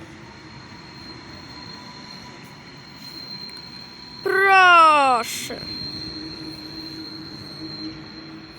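Train pulling out of Poznań Dębiec station, heard as steady ambient rumble with a loud burst of squealing wheel or brake tones partway through. Someone speaks briefly.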